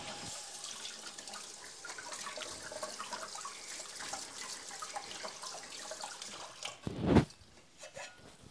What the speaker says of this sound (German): jetzt nehme ich mal die Hände kurz waschen